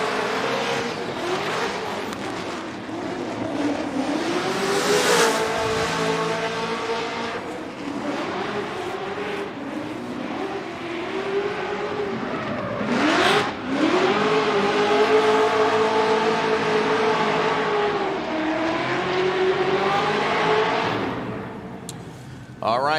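A Cadillac ATS-V drift car runs a Formula Drift competition pass, its engine revving hard with rising and falling pitch and tires squealing, loud and sustained over a crowd and a commentator talking.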